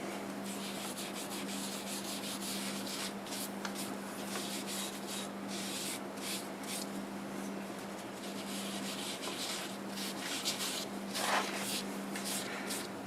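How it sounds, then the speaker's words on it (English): Steady soft rubbing of shellac-based sanding sealer onto a live-edge wooden bowl, a continuous close scuffing hiss with slight rhythmic variation and a faint hum beneath. "Let's go ahead and put some sanding sealer on this and see how it looks. This is shellac based sanding sealer."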